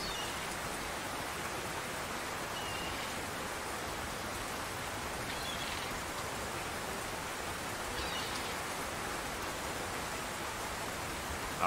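Steady rainfall in the fishing game Russian Fishing 4, a constant even hiss that stays at one level throughout with no voices.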